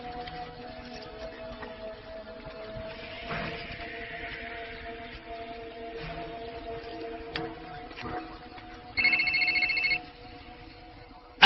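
Telephone in a movie scene ringing briefly with a short, bright electronic trill near the end, heard over a steady low hum and faint background noise.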